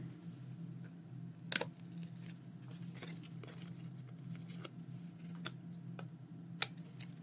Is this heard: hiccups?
no